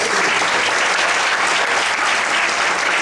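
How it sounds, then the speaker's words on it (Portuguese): Church congregation applauding during a sermon, a loud, thick wall of clapping from many people that holds steady and close from start to finish. "Você pode aplaudir o seu Deus?"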